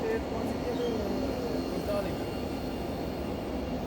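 A DEMU train on the Katra to Badgam line, heard as a steady, loud, continuous rumble of the running train from inside, broad and unbroken for the whole stretch with no distinct events.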